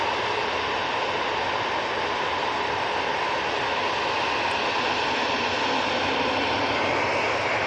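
A Cessna Citation jet passes an airport, its engine roar steady, broad and loud for the whole stretch, with no voices over it.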